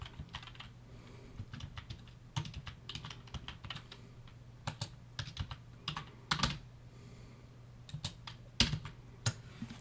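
Keys clatter on a computer keyboard while a new name is typed into a Photoshop football template, irregular bursts of crisp, close taps separated by short pauses.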